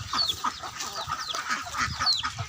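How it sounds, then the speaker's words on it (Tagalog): Pet ducks and chickens clamor at feeding time, with overlapping clucks, squawks and short calls in a busy, close, continuous commotion. "Kasalukuyan nagpapakain sa ating mga alagang bibi."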